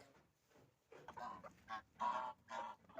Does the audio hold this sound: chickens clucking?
yes